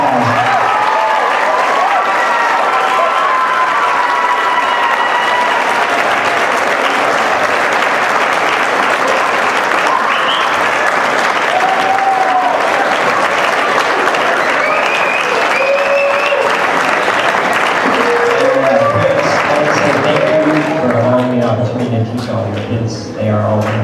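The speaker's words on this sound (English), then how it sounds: "Give him one more round of applause." A large concert audience gives a loud, sustained round of applause for a performer at a spring school music concert, dense clapping running steadily for the whole stretch with voices calling and chatter mixed in.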